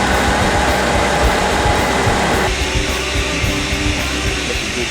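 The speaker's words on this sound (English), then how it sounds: "We can stand by to start the main feed pump." A main feed pump spins up at a fuel plant, a loud dense mechanical roar with a steady hum that shifts partway through as the machinery settles into running, with no voices.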